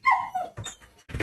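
A puppy whimpers in a high, wavering whine near the start, followed by softer yips and whines, all fairly close with no talking.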